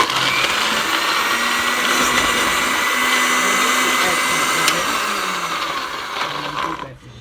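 A blender whirs loudly and steadily at close range, pureeing onions, garlic, lemongrass and galangal with a little water, its motor droning for several seconds before cutting off near the end.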